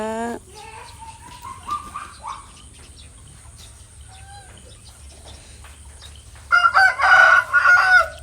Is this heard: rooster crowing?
yes